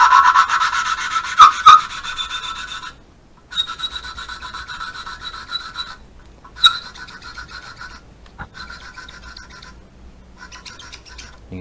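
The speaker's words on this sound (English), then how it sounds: "And you'll hear the tone of the grinding because that's abrasive." Hand grinding of a part for a 1941 Dodge army truck engine with an abrasive, a steady rasping scrape that stops and starts in several bursts, close and fairly loud with brief quiet gaps.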